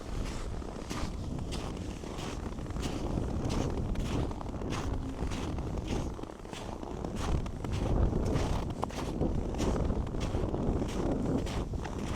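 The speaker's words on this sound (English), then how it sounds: "It's a bit windy down this street." Wind blows down a snowy Toronto city street after a winter storm, a soft continuous rush with gentle buffeting and faint footsteps, moderately quiet and steady.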